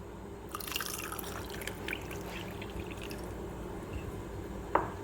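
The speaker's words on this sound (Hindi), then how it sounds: "अब इसमें पानी शामिल कर देंगे नीम गर्म," Lukewarm water is poured into a chia seed drink mixed with lemon juice and honey. The soft splash and trickle of liquid continues steadily, ending in a brief sharp drip, with no talk.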